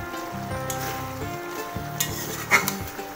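Slit green chillies go into a pan of simmering okra curry, bringing a soft sizzle and frying crackle with scraping stirs and light clinks of a utensil against the pan, close up and without talk.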